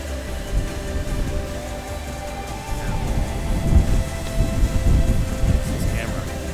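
A thunderstorm rolls in with steady rain hissing throughout and deep, rumbling thunder building in the second half, loud and close.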